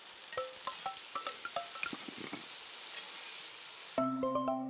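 Seafood ramen cooking in the video game Eastward: a dense crackling game sizzle with clinking pickup chimes dotted over it, then a short bright jingle of tones at the very end.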